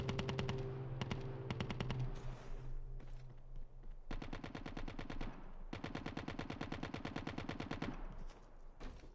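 Automatic gunfire in Call of Duty Mobile, with short bursts followed by long, rapid strings of loud, evenly spaced shots, close range, alongside steady game tones early on.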